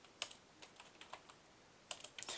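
A keyword being typed on a computer keyboard: a few quick, light key clicks in two short bursts, close and fairly quiet, with no talking.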